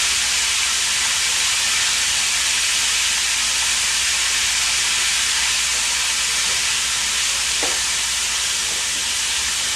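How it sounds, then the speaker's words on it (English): Chicken nuggets sizzle steadily in a hot pan, a dense crackling hiss that stays loud and even, with a couple of faint clinks. "I know, they're sizzling."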